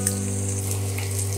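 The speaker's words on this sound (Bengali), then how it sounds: "পেঁয়াজ কুচিগুলো একটু ভাজা ভাজা হওয়া পর্যন্ত একটু অপেক্ষা করব" Chopped onions fry in a pan with a constant close sizzle and light crackle, over a steady low mechanical hum; nobody talks.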